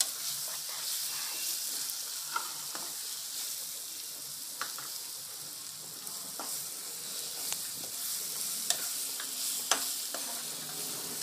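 Tomatoes for a spicy tomato pickle with red chilli powder sizzle and fry steadily in a pan, with frequent spoon scrapes and stirring clicks over the constant hiss and no talking.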